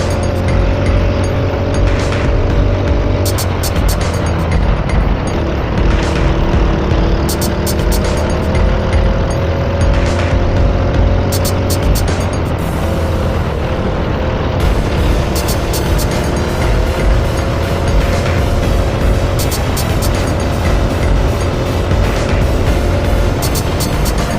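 Race cars lapping a practice session at Forest Edge circuit, a father and son on track together; continuous loud engine drone with shifting pitch sweeps as cars accelerate and pass, no talk.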